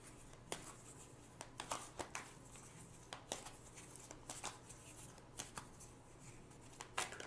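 Tarot cards being shuffled by hand: quiet, close riffling and soft slaps of card stock in irregular bursts, faint and alone with no talking.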